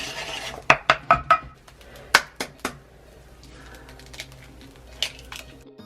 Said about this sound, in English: We're just going to keep stirring this